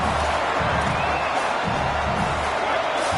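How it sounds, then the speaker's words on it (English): A packed college football stadium roars for its defense, a loud, unbroken wall of crowd noise and cheering with a deep rumble underneath. "Listen to this crowd just shaking the girders of this place trying to help their defense"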